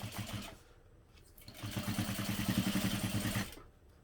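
A sewing machine top-stitches a vinyl piece closed, a close mechanical whirring clatter that starts briefly, pauses, then runs steadily for about two seconds before stopping.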